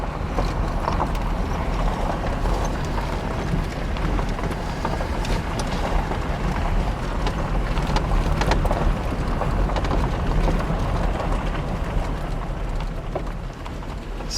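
A vehicle hauling logs rolls up a lane, a loud continuous rumble with rattling, clattering bumps throughout and no talking.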